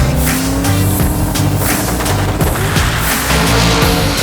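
A loud drag racing car engine roars continuously with rapid, crackling mechanical bursts as the car launches down the strip, close and intense throughout.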